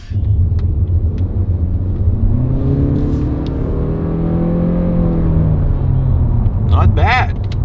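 Interior drone of a car with a 1.7-liter turbocharged four-cylinder engine while driving: a steady low rumble with engine tones that swell and ease, and a brief voice near the end.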